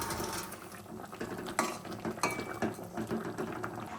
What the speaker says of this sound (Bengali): ঝোল ফুটতে শুরু করেছে, এবার ভেজে রাখা রুই মাছগুলো দিয়ে দেবো।